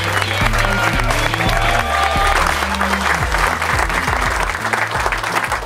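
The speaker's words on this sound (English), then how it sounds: "Let's give the Motor School 2018 a round of applause." A crowd at a police motorcycle school graduation claps steadily for several seconds, dense and loud, with voices mixed into the applause.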